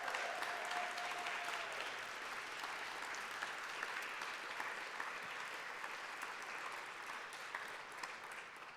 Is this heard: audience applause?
yes